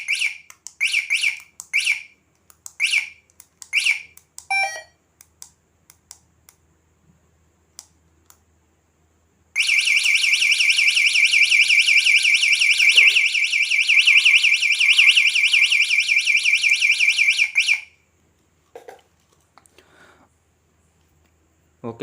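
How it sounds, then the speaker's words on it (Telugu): Lock/unlock alarm buzzer on a 48V 1kW scooter hub motor kit: a run of short, sharp beeps, then after a pause a loud, steady buzzing tone that holds for about eight seconds before cutting off. "అన్లాకు అండ్ బజర్ సౌండ్స్."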